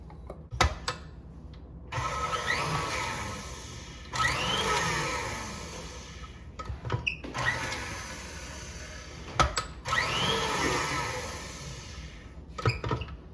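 An electric mixer whips egg white bun batter in repeated bursts of whirring motor, four runs of about two seconds each separated by short pauses with faint clicks, heard fairly quietly and close by.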